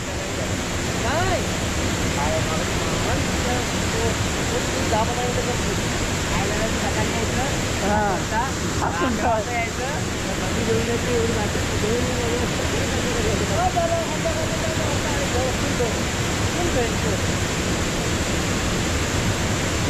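The Devle village waterfall in Devrukh, Sangameshwar, roars as a dense, constant rush of falling water close by, with faint voices murmuring underneath.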